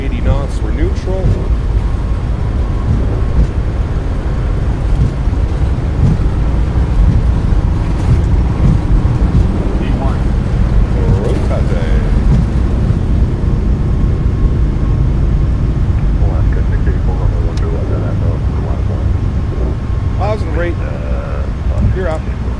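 A Boeing 737 MAX 8 at takeoff power rolls down the runway in Microsoft Flight Simulator 2024, a loud steady roar and rumble of engines and wheels sustained throughout under cockpit voices.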